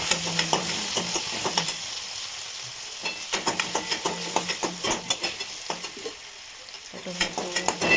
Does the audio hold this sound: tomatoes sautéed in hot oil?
yes